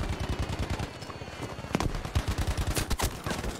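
Gunfire in a first-person shooter game, rapid automatic bursts with dense rhythmic shots throughout plus a few louder single cracks, fairly close and continuous, no talking.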